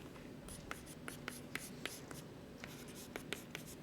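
Chalk or marker taps and scratches against a board in short, quiet strokes as shorthand is written during a mathematics lecture, with a hushed room behind.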